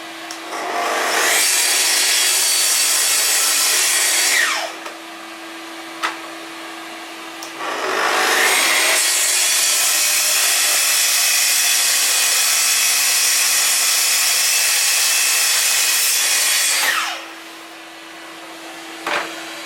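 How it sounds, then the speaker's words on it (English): A track saw cuts wood in two long, loud passes with a steady whine, spinning up and winding down around each pass. Its dust extraction hums continuously underneath. "My lovely track saw."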